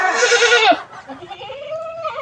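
A goat bleats once, loud and close with a wavering cry, followed by faint background sounds and murmuring.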